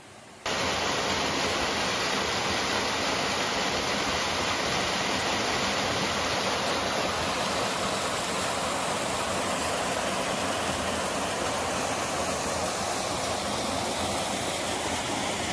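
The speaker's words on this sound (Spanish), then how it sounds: "Y en el área donde cae la cascada" A waterfall at La Garganta del Diablo in Peñuelas, Puerto Rico, pours into a pool with a dense, constant roar of rushing water, loud and close, steady for the whole span with no voices.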